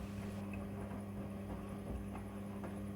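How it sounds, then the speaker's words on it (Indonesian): A Midea front-loading washing machine drum starts turning as a bed cover wash begins, giving a faint, steady low hum and soft churning that runs throughout with no voices. "Mesin cuci kemudian akan berputar dan proses mencuci dimulai."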